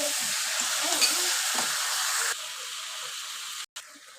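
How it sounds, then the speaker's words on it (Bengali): Cauliflower florets being stir-fried with spices in a hot pan give a steady, close sizzle and crackle, with a few scraping stirs, then the frying quiets abruptly near the end. "এবার সুন্দর করে মশলার সঙ্গে কষিয়ে নিব।"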